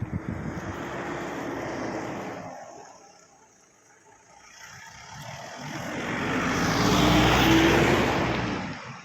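Vehicles pass one after another on a hilly mountain road, a first one fading away, a quiet gap, then another swelling close and loud with a broad rushing whoosh before receding.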